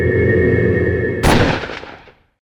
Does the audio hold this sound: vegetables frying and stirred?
no